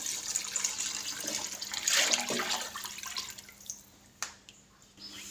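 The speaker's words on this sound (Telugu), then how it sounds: "ఇప్పుడైతే మూడు బౌలు వాటర్ పోసుకుందాం" Three bowls of water pour and splash into a pot for a couple of seconds, then trail off into a few drips and clinks, before basmati rice is added for egg biryani.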